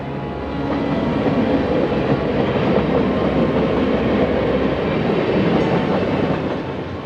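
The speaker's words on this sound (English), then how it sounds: "A faster-paced northbound unit coal train, led by Burlington Northern Santa Fe ES44AC number 5868, crossed an upgraded county line road." A BNSF ES44AC locomotive leads a faster-paced northbound unit coal train across a county line road, a steady, loud rumble of rolling cars and wheels that holds evenly throughout with faint rail clatter.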